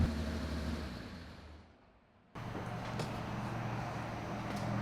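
A classic Porsche 911 engine with a budget Anza aftermarket exhaust rumbles steadily, dips briefly quieter, then surges back louder with a deep, throaty exhaust drone that holds strong to the end.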